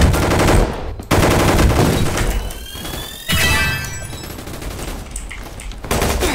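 Rapid machine gun fire in sustained bursts with brief pauses, loud and close, layered over busy game sound effects from the Roblox game Gunfight Arena.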